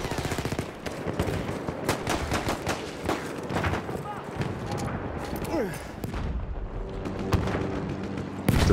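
Rapid gunfire and impacts strike a tank in the Battlefield 1 video game, with dense bursts of shots and explosive booms crackling steadily over rumbling battle noise, and someone talking through it.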